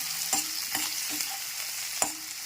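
Onions sautéing in a pan for an egg curry, a constant oily sizzle broken by four or five crisp spatula scrapes at a moderate pace, nearby and with nobody talking.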